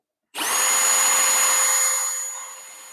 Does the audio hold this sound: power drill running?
yes